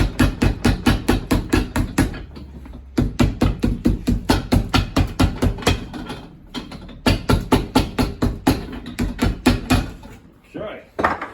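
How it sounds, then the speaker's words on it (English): A cobbler's hammer striking the edges of a shoe sole flush, rapid rhythmic taps in runs of many blows with short pauses between runs, close and sharp. "We'll just take our hammer,"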